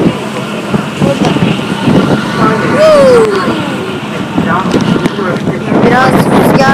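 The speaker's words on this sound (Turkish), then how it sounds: "Rüzgar var biraz." Steady wind buffeting the microphone on a boat near Ellis Island, with low rumbling noise throughout and brief engine-like hum; voices are faintly audible underneath.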